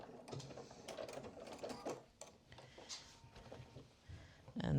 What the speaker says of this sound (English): we're just going to get as close as we can into that point and then stop and backstitch